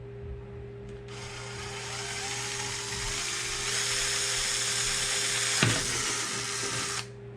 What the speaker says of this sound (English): start a pilot hole.